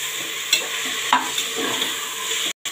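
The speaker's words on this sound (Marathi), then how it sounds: "आता याच्यामध्ये आपण हे टोमॅटो टाकूया. हे पण चांगली भाजून घेऊया." Onion and tomatoes frying in a pan for a pressure-cooker chicken biryani, a steady close sizzle with a few brief stirring scrapes and a short dropout near the end; no talking.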